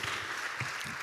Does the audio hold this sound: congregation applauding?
yes